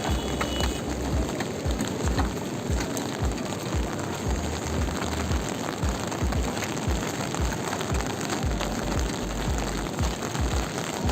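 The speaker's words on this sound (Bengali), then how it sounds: "বৃষ্টি হচ্ছে" Continuous rain on a fishing boat in a rough sea patters and hisses on a surface, with faint repeated low thumps under the steady wash.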